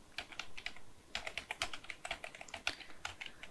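Fingers typing an email address on a computer keyboard, quick irregular bursts of close clicking keystrokes with brief pauses, no talking.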